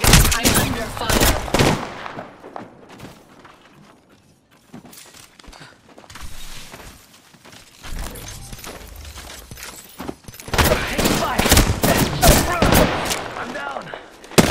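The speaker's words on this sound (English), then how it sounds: "I'm under fire." Video game gunfire in a battle-royale style match, dense bursts of rapid shots in two loud clusters with quieter clatter and movement between, while a voice talks in places.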